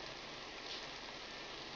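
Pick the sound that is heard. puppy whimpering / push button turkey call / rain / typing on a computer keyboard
rain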